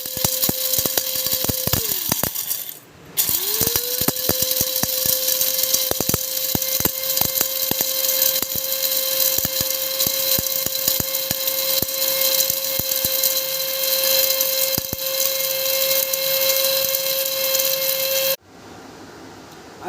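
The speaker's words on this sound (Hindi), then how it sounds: "अब हम इन सब चीज़ों को हम पीसते हैं" An electric grinder runs steadily and loud, grinding ingredients for an eyesight remedy, with a brief stop near three seconds before it restarts and then cuts off near the end, no talking.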